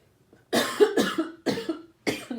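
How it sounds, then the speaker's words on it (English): Four harsh coughs in a row, close and fairly loud, each a sharp broadband burst separated by short pauses. "sorry for coughing"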